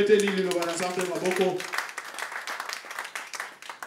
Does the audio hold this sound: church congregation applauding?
yes